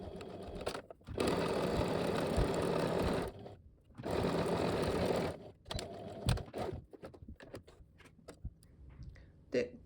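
Sewing machine stitching the underarm seam of a lace T-shirt sleeve with a 2 cm seam allowance, running in two loud continuous bursts separated by a pause, then shorter stops and handling clicks.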